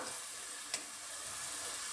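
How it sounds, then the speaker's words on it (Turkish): Chopped onions and peppers sauté in a pan with a faint, steady sizzle, broken by one brief scrape or stir near the start of the short stretch. "soğanımı ve biberlerimi ikisini birlikte kavurmaya bırakıyorum"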